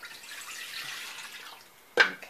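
Water from a pre-measured cup poured into a bread machine pan, a soft steady trickle followed by a sharper splash near the end, close and fairly quiet.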